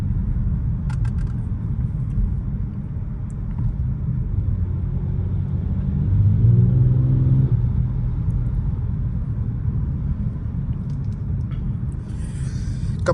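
A new car's engine rumbles steadily from inside the cabin while driving, a deep continuous drone that swells briefly louder midway, with no talking.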